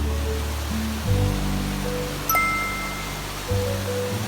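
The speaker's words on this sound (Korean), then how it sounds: "시원한 물소리가 마음을 아주 편하게 합니다." Steady rushing water fills the scene, a broad continuous wash like a nearby river or stream, with a low hum shifting underneath.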